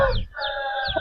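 An Aseel rooster of fighter bloodline clucking up close, with a few short, sharp vocal bursts in quick succession and no other voices.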